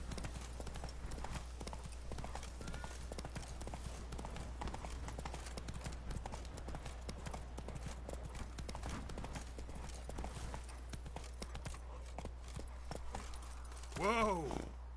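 Horse hooves clip-clopping steadily in The Witcher 3 video game, a continuous walking rhythm under a low constant hum, with a brief whinny-like sound near the end.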